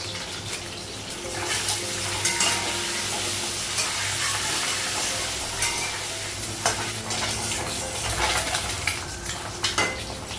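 Fresh oil heats and sizzles in an unwashed wok that was just used to fry bitter gourd, making a loud, continuous hiss broken by sharp scraping and clattering stirs nearby.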